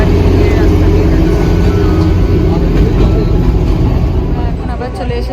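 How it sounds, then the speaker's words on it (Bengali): Darjeeling toy train moving through the hills, a loud continuous engine and wheel rumble close by, fading slightly toward the end. "আমাদের টয় ট্রেন বাতাসি আলু থেকে আবার ছেড়ে দিয়েছে।"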